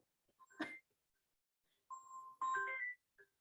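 A phone sounds electronic ringtone tones for an incoming call, a short bright burst followed by longer sustained melodic tones, fairly close and clear with near silence between them.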